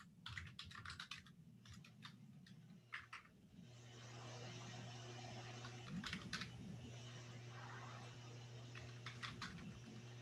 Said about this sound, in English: that's the sound of me typing